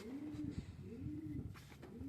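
A female Taile pigeon from a Punjab loft coos in three rhythmic rolling phrases, close and clear against a quiet background.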